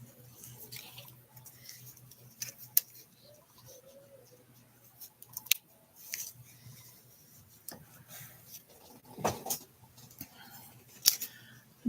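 Scissors trim paper for a Stampin' Up card in a quiet room, a sparse series of close, crisp snips and light rustles separated by short pauses.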